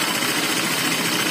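A Honda Vario 125 scooter engine runs after its radiator coolant is drained and refilled, a brief steady mechanical drone, rough and close, with no talk.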